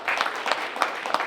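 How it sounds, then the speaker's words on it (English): An audience at a summer literary festival claps warmly, a brief burst of dense applause from a crowd indoors, steady and moderately loud with no voices over it. "That's a very kind clap"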